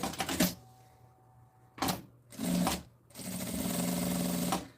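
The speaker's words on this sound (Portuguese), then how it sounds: "eu começo aqui dando retrocesso com um pé de máquina, vou fazer a costura em toda a volta" A sewing machine stitches all the way around a small zippered fabric pouch, running in several separate bursts with short pauses between them, the last run long and steady, close and fairly loud with no talking.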